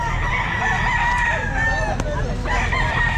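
Roosters crow loudly and steadily at an outdoor pet market, one long crow close by with other chickens clucking in a busy background and occasional brief voices.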